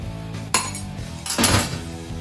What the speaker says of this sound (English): So this silverware, so it does bend fairly easy.